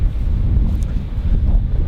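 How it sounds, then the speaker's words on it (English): Strong wind by the ocean buffets the microphone, a continuous low rumbling roar with no voices. "so it's definitely windy today"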